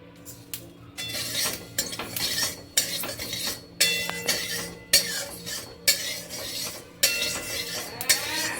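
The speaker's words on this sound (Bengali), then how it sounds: "দেখো, এই ভাজা হয়ে গেল আমাদের কালো তিল," Black sesame seeds dry roasting in a pan, a rhythmic series of scraping stirs and light rattling clinks against the metal, close and fairly loud, with soft sizzle between strokes.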